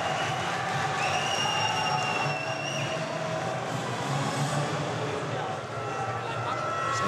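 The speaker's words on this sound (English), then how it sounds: "Now listen to the roar from the French crowd for the local boy." A French crowd roars at a Thai Fight event in Paris in 2017, cheering for the local fighter in a dense, sustained wall of noise that stays loud throughout with faint vocal tones rising above it.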